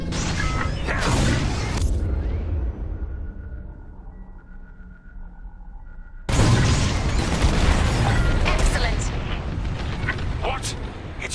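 Bombs detonate during a raid run in Star Wars Squadrons, with loud booming bursts at the start and again after a quieter lull, the later stretch dense with explosions and blaster-like chatter.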